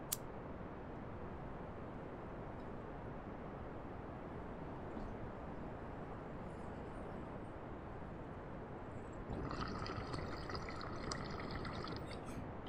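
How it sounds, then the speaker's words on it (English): Water bubbles steadily in a bong as it is smoked, a continuous close, dense gurgle that grows slightly louder and brighter near the end, with no talking. "The nice bubbling sound of the reactor chamber from our spacecraft"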